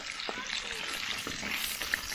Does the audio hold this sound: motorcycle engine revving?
no